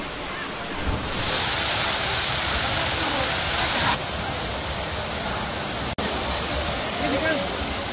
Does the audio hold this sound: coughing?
no